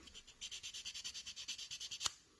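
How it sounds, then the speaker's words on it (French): Leftover sprue on a plastic model kit is sanded in about fifteen quick, even back-and-forth strokes, a soft rhythmic rasp close up that ends in a single sharper scrape. "Ici, il y a encore un petit reste de grappe que l'on va poncer."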